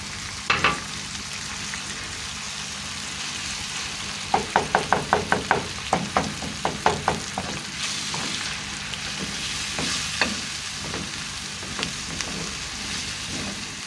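Eggs fry in a pan with onion greens, a soft steady sizzle broken by a rapid run of sharp spatula knocks and scrapes against the pan, then a few scattered taps, close and fairly quiet.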